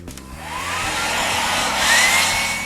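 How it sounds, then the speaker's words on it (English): A hair dryer on its cold setting blows steadily at freshly painted wood on a DIY wall planter, loud and continuous after a click as it switches on, with a slight rising whine. "you can take a hairdryer to it, and I just like to leave it on a cold setting."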